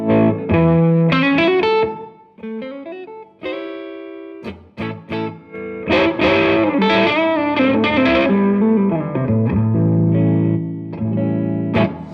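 Electric guitar played through heavy effects, distorted and chorused, with sustained chords and quick runs ringing loud and continuous.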